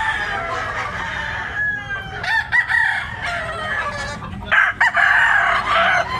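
A Possum black leg rooster crows loudly nearby in a couple of drawn-out calls, with clucking from other fowl and some background farmyard noise.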